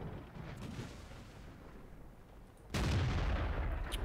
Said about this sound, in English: Hopefully our howitzer can make short work of him, though.